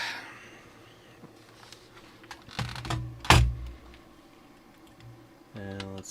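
Keystrokes on a keyboard hooked to a 486-era DOS computer, a few scattered taps with one sharp louder clack near the middle and a quick run of rhythmic clicks at the end, over a steady low hum.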